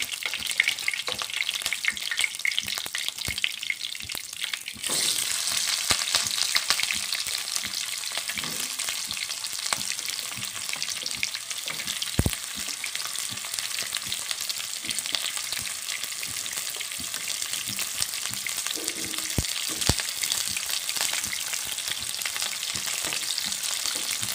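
Shallots fry in a pan with a dense, close sizzle that swells sharply after a few seconds, broken by scraping stirs and occasional utensil knocks, and nobody speaks.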